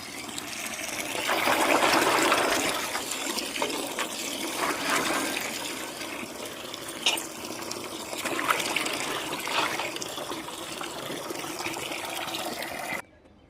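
Freshly picked garden rosemary and money plant leaves being rinsed in water, with continuous splashing and trickling that swells and fades with stirring, then stops abruptly near the end.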